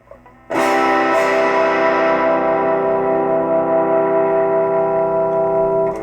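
A loud electric guitar chord distorted by a RAT 2 pedal rings out with long sustain, its bright top end gradually softening as the pedal's filter sweeps down, with a second strum early on.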